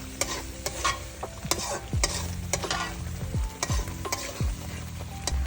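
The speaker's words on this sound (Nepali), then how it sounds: "अब मैले एकछिन यो फ्राई गर्छु।" Masala with ginger frying in a pan, a close steady sizzle broken by repeated rhythmic spoon scrapes and knocks against the metal as it is stirred.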